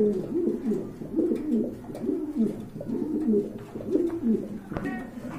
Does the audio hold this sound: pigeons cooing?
yes